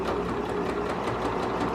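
A sewing machine runs steadily through fabric while a garment is being constructed, giving a continuous close-up mechanical whir with a fast stitching patter and no voices.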